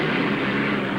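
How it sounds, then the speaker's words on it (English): Hydroplane racing boat engines roar at the 1968 APBA Gold Cup race in Detroit, a loud, unbroken, near drone that fills the whole second with no talking. "Listen to the roar of those engines."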